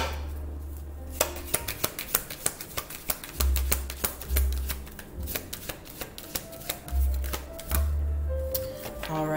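Tarot cards riffled and shuffled by hand, with a burst of crisp papery flicks and several soft slaps as too many cards spill and fall, close and fairly quiet, with a voice speaking in between.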